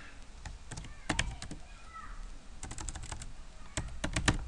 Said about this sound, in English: We need to type something in